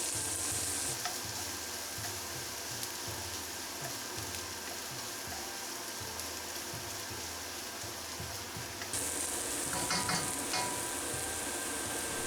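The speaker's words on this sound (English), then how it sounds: "add another tablespoon of oil and get that hot and start to fry off the vegetables" Vegetables frying in hot oil for egg fried rice with king prawns, a loud continuous sizzle with rhythmic tossing and stirring, a brief louder burst near the end, no voices.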